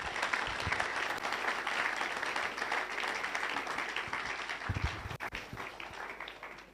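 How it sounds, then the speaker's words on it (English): An audience at a youth entrepreneurship and leadership event in Ghana gives sustained applause to welcome a professor, a dense wash of clapping that holds steady and then thins toward the end. "let's welcome with applause Professor Emmanuel Opoku Marfo"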